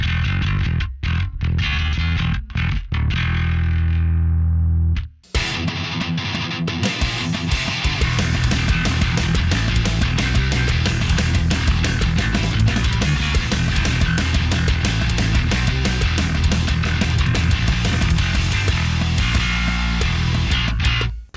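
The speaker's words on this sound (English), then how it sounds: "I have now installed the EMG Rob Trujillo set into my Kiesel JBM5." A Kiesel JBM5 bass fitted with EMG Rob Trujillo pickups opens with a few deep, sustained notes between short gaps, then sits under a loud, driving distorted metal band mix that keeps going to the end.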